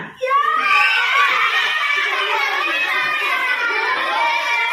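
A group of children loudly chant the Indonesian 'tepuk hitam putih' clapping game together in a classroom, their high voices overlapping in a continuous, lively stream.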